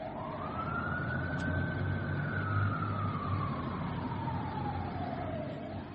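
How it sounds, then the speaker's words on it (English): A fire truck siren wails past on a city street with construction going on, its rising and falling tone sweeping steadily over continuous traffic rumble, fairly close and loud throughout. "that was a fire truck going up Brady Street"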